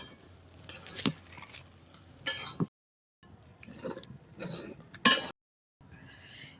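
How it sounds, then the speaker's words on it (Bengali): Soaked sago pearls stirred and lightly fried in a pan, with scraping spoon strokes and clinks against the metal in short bursts separated by brief silences. "এবার আমি এই সাবুদানাটাও এই যে একটু নেড়ে চেড়ে ভেজে নেব"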